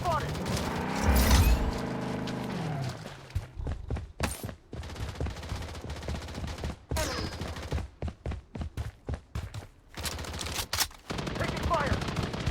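Automatic gunfire and bursts in the mobile shooter Blood Strike during a ranked match, rapid cracking volleys repeating across the clip between short pauses, with game voice callouts mixed in.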